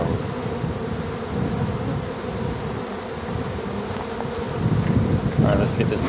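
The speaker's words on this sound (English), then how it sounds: "Hive is loud." Dense, steady buzzing from an open honey bee hive fills the whole stretch, loud and close with no pauses, swelling slightly toward the end, with no voices over it.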